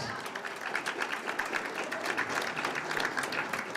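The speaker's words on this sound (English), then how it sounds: "How about a round of applause for our farmers?" Applause for local farmers at a Pescadero town planning workshop: a crowd claps steadily for a few seconds, moderately loud, with faint voices mixed in.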